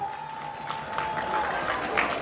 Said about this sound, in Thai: ขอเสียงปรบมือกับตัวเองหน่อยครับ